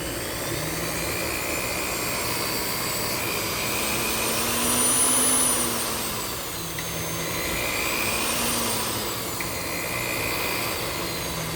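A corded power drill runs alone at varying speeds, its motor whine rising and falling steadily through the clip without full-speed bursts.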